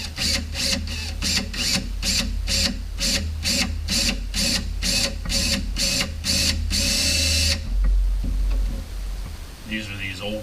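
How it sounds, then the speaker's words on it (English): A handheld drill with an old, dull resharpened bit bores in a series of about fifteen quick, even whirring bursts, then one longer run before it stops. "They do warn you, don't get too carried away with your drill."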